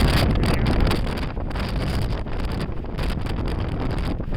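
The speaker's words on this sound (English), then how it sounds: "Very windy." Strong gusts buffet the microphone on an exposed stretch of the Pacific Crest Trail near the Bridge of the Gods, a loud continuous roar with rough rumbling swells throughout.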